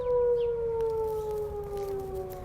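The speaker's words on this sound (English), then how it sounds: "So we're waiting for our second tornado siren" Outdoor tornado siren wailing steadily with a long sustained tone that slowly drifts downward, loud and continuous throughout with no one talking over it.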